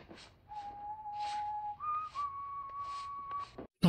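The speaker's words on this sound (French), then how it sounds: "on entend un homme de ménage siffler la chanson de Goldfinger" A man whistles the Goldfinger theme, clear and close, with steady held notes that step up in pitch, ending in a sudden clatter.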